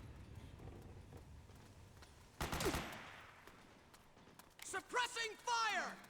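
Gunfire erupts in the stealth-action game Metal Gear Solid 4: Guns of the Patriots, a sharp burst landing among hurried footsteps and scuffling, followed by soldiers shouting over the fight.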